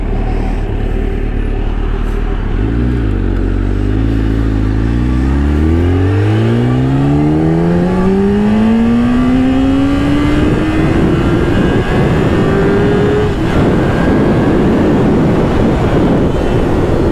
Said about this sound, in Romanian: se dă cu motorul